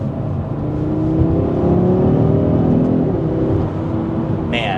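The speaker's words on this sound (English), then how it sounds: "It is so cool how this 5-cylinder just rips this car to speeds." A 2025 Audi RS3's five-cylinder engine pulls hard under acceleration, a loud, steady rising drone heard from inside the car with no talking.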